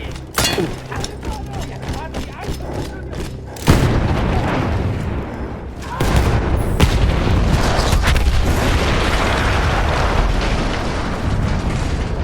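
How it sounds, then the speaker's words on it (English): Explosion of a blown-up gun in the Battlefield 1 video game, a sudden loud boom followed by a second blast and a long rumbling roar of debris and battle noise. "That explosion was one of the sweetest sights of the war for me."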